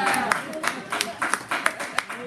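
Hands clapping in a church crowd, a quick run of about a dozen sharp claps spread over a couple of seconds, mixed with a voice talking over them.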